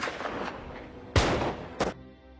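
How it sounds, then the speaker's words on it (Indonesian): Two sharp gunshots in a film, a loud crack followed by a slightly softer second shot shortly after, over a quiet ambient background. "Tiba-tiba terdengar suara tembakan."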